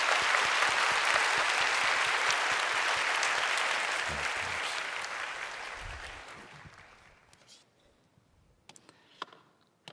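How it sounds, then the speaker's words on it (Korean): Church congregation applauding the five newly baptized members during a Sunday service, a full dense round of clapping that holds for several seconds and then gradually fades away, leaving a few scattered claps and clicks at the end. "우리 인사하실 때 박수로 축복해 주시기 바랍니다."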